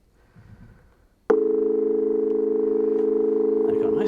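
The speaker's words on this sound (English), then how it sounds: "these are perfect sine waves" A steady, sustained chord of synthesized sine waves, pure and smooth, starts abruptly after a faint murmur and holds evenly, loud and close.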